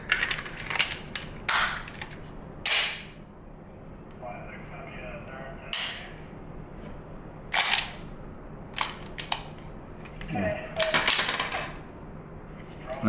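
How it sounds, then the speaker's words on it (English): A dummy round is cycled through a Glock 43x pistol with a threaded aftermarket barrel and stock slide: sharp, close metallic clacks of the slide racking in scattered bursts, with fumbling handling noise and someone talking between them. "Let's check, run a dummy round through it."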